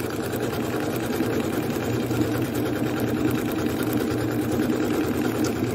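Janome sewing machine stitching a seascape onto fabric, a steady, continuous mechanical whir with an even motor hum and fast stitching rhythm throughout, close and moderately loud, with no talking.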